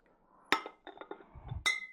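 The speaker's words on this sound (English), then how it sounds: "Don't let them clink too loud." Glass bottles clink sharply against each other as they are slid into a six-pack carrier, a few bright close taps and rattles with a final ringing clink.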